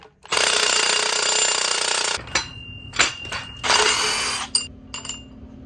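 A 10mm hex tool works loose the original saddle on a car jack being converted into a high-lift truck jack, with a loud sustained buzzing whir followed by several shorter mechanical bursts and clicks close by.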